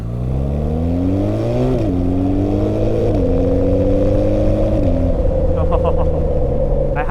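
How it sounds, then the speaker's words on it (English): A BMW R 12 G/S motorcycle engine accelerating through the gears on a wet road, its loud close drone climbing in pitch, dropping at each of several shifts, then holding a steady high note. "there's so much power in this engine"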